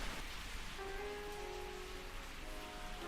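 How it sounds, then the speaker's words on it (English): Unseasonal rain falls on a garden patio in Bangalore, a steady close hiss of drops that fills the whole stretch, with a few faint thin tones drifting above it. "it's not usually raining in Bangalore right now. This is very unseasonal."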